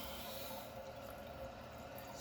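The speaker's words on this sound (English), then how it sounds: "You can see the water is going to be rising here" A toilet tank refills after its supply valve is turned back on, giving a steady, even rush and hiss of running water with no pauses.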